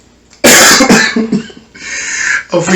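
A burst of harsh coughs, several in quick succession, loud and close, followed by a brief pause and one more cough.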